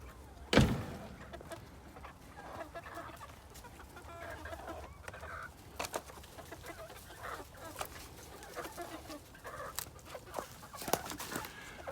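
A flock of about 16 chickens clucks and murmurs at a moderate distance, scattered calls over a quiet outdoor background, with one sharp knock near the start.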